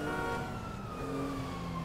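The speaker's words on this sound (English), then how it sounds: "I still hear their siren." A police siren in a video game wails steadily in the background over a continuous rumble of engines and traffic, sustained and moderately distant.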